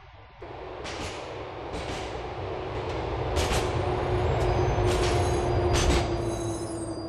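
A C train on the Liberty City subway in GTA4 rolls along with a steady low rumble and hum, a sustained tone riding over it and occasional brief high squeals and clacks from the wheels, growing slightly louder, with no talking.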